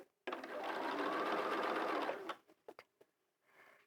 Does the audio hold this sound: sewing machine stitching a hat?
yes